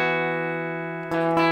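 Guitar chords from a song ring out, one sustained chord that is struck again twice near the end, clear and close with no voice.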